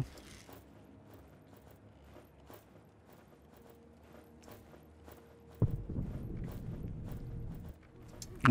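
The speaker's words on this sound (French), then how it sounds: "C'est bien des bruits de pas, c'est bien des portes, donc c'est bien des êtres humains." Soft, irregular footsteps of people in the video game This War of Mine, faint and spaced, followed by a louder mechanical rumble like a door or mechanism.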